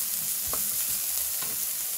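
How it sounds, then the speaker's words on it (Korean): Soy sauce and chopped red chili are stirred together in a bowl for an eggplant rice bowl dish, with two soft close scraping clicks of the utensil over a steady hiss. "같이 섞어줄 거예요."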